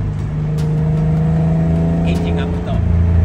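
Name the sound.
engine of a Nissan Skyline Hakosuka car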